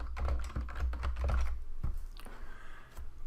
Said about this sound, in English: And now we'll type the heading.